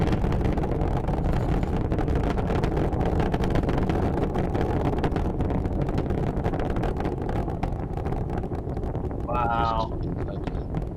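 Distant, continuous roar of SpaceX Starship's engines at launch during Flight Test 7, a steady broadband rumble with wind buffeting the microphone, and people talking over it.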